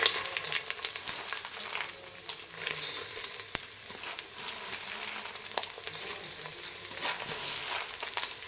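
Sprouted horse gram frying in hot oil with mustard seeds and curry leaves, a continuous crackling sizzle with sharp pops and occasional stirring scrapes, close and with no talking.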